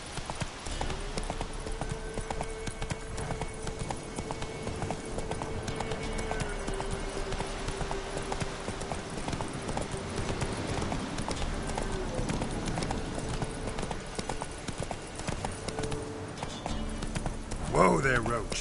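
Roach, a horse in The Witcher video game, clip-clops at a steady rhythmic pace for the whole stretch, with hooves close and clear. A voice talks over them and the horse whinnies briefly near the end.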